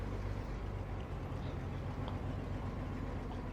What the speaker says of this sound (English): I really like the low rumble of the engine, which is really, really nice.